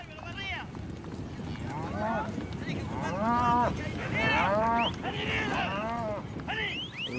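Cattle low and moo repeatedly, close and far, while being gathered on the open Patagonian pampas for branding, with a steady rumble of movement and hooves underneath.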